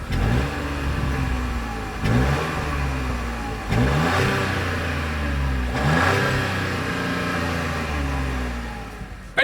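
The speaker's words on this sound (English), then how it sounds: "here is that exhaust clip" A 2026 Buick Envista engine revs hard several times through its exhaust, each rev rising in pitch before dropping back to a rumbling idle.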